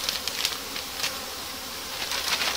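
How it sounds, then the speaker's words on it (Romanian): Dense, steady buzzing of a queenless honeybee swarm up close, a continuous droning hum with rising and falling swells and no voices. "El e plin de albină."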